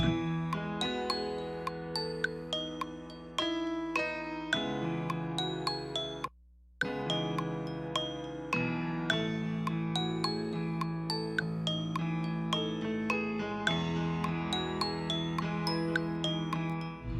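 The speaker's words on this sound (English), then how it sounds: "I did this kind of like plucky bell thing" A plucky, bell-toned synth riff repeats over a fuller backing of sustained chords and bass, with a brief dropout partway through before the pattern resumes.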